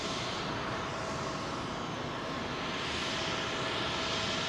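Airliner with CF6 engines touching down smoothly on runway 27L at London Heathrow, a steady broadband engine roar that fills the whole clip at an even level, distant and unbroken, with no voices.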